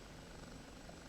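The OH-58D Kiowa helicopter in DCS World keeps up a steady, dense rotor and engine drone that fills the moment at constant loudness, with no voices.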